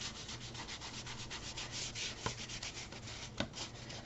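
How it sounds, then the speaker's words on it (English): A baby wipe with stain being rubbed along a wooden stick, a faint steady scratchy back-and-forth friction with a couple of small knocks, close and quiet without speech. "rub it over the stick"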